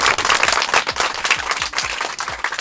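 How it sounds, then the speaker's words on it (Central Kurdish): Children clap together in a burst of applause during a visit to a small village, a dense, lively patter of many small hands sustained throughout with no speech. "یەک چەپڵە"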